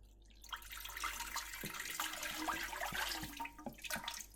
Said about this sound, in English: Now add some of the water to the starter like this.